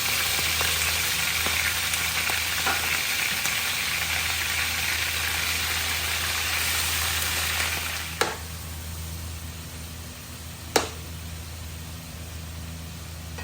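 Beef frying in oil in a pan for beef biryani, a steady close sizzle and hiss throughout with two sharp clicks late on.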